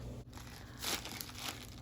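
Plastic bag crinkling as soft pottery clay is placed inside, a close rustle that swells midway and keeps crackling faintly, with no talk.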